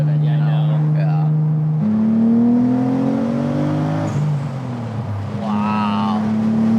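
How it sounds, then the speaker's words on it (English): A Nissan Z32 300ZX's VG30 engine idles then revs up in rising, rumbling pulls, dropping back and climbing again, steady and close with a deep, throaty tone. "It just has a muscle car sound, like it's muscular."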